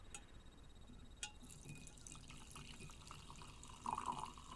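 Cowboy coffee strained from a pot, heard as faint, close trickling and dripping of liquid with a brief splashy burst near the end, over quiet room noise.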